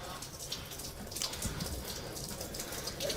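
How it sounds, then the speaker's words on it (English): Water leaks into a building during Hurricane Harvey, heard as a faint, continuous patter and trickle of dripping and running water with soft irregular splashes, steady throughout and without talk. "There's water coming in."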